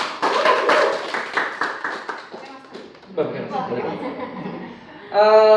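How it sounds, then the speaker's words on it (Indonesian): A small audience at a poetry night in Palembang claps in a burst of distinct, rhythmic hand claps that taper off, followed by people talking, with a voice rising loudly at the end. "Kasih tepuk tangan dong."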